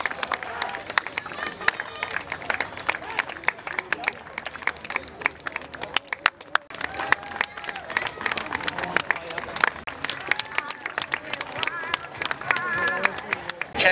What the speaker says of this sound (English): let's clap them all home as they finish the men's 800 metre ambulant final